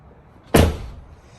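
A Tesla Model Y rear door swings shut with its soft-close latch, giving one loud, close thud that trails off into a short settling tail.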